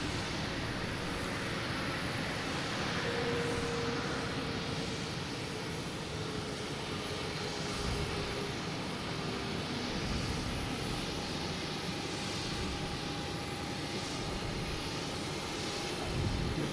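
Delta Airbus A330-900 taxiing at Boston Logan, a steady, even engine roar with a faint high whine, constant and moderately loud from start to finish.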